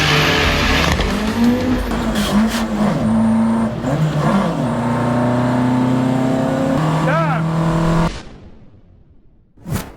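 Jet car launching on a drag strip at Santa Pod Raceway, heard from the track: a loud, sustained roaring whine with shifting tones for about eight seconds, then an abrupt drop to near quiet and a brief final burst.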